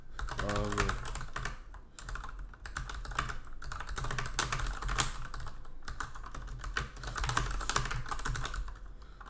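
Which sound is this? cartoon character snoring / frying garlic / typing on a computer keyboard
typing on a computer keyboard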